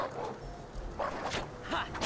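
A dog-type enemy in Final Fantasy XII lets out a few short barks and yips amid game battle sounds, with a voice speaking over it.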